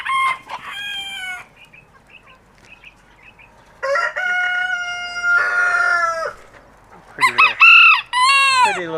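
Chickens and a rooster call close by, with loud repeated crowing and clucking in bursts separated by quieter pauses and scattered soft clucks.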